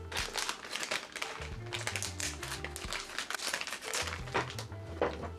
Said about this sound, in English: We're gonna open the sorrel,